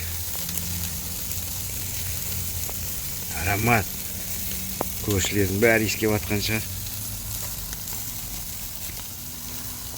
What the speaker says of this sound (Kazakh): Мощно жарится